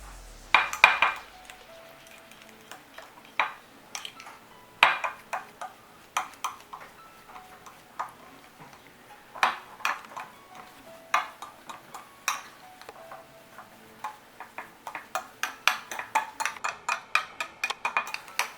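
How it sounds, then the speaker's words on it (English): Egg and finely ground almond flour are mixed into a paste in a bowl, making a series of sharp utensil clicks and taps against the bowl, irregular and close, alone without talk. "I add that 3/4 of a cup to the egg to make a paste"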